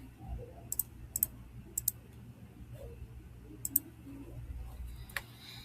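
Quiet computer mouse clicks while working in embroidery digitizing software: several crisp, faint clicks in pairs and singles, spaced irregularly over a low background hum, with no talking.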